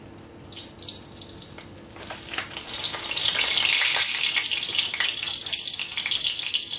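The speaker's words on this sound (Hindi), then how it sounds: "जैसे आपका तेल गरम हो जाता है उसके अंदर हम पिंच ऑफ हिंग डालेंगे।" Asafoetida sizzling in hot oil for masala corn, a fizzing crackle that starts soft and swells louder and steady after two seconds, close and continuous with no talk.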